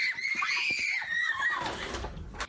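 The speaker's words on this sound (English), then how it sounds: "2 kids playing are sent scrambling and screaming when they hear the boom" Children playing in a Parkland neighborhood scream in a high, wavering burst after a mysterious boom, close and shrill for a couple of seconds before trailing off into rustling background noise.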